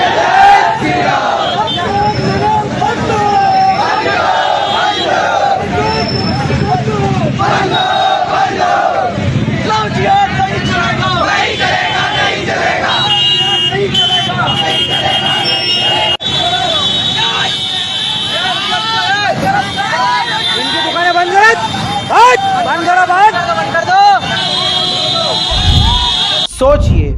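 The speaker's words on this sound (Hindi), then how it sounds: "ये वो भीड़ है, ये वो दोगली भीड़ है" A large crowd at a rally chants slogans in loud rhythmic unison, with vehicle noise and a general hubbub mixed through a long, dense stretch of sound.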